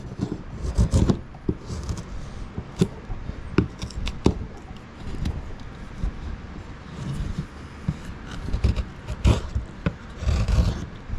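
Chisel carving a wooden wand by hand, a series of short scraping and rasping strokes in an irregular rhythm, close and fairly quiet, with brief pauses between cuts.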